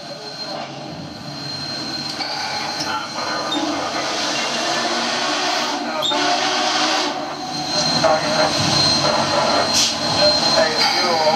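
Union Pacific steam locomotive 844 sits with its throttle briefly cracked open and closed at a railway heritage day display, giving a loud, close, broad hissing rumble that swells over several seconds, with faint chatter of onlookers around.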